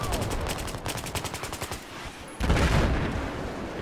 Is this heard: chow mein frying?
no